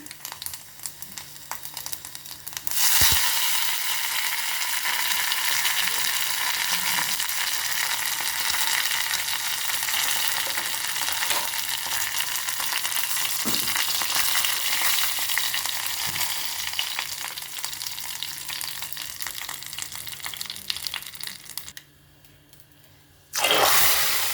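A tempering of mustard seeds, cumin and dried red chilies hitting hot oil bursts into a loud, dense crackling sizzle that holds steady, briefly cuts out near the end, then flares again, close up.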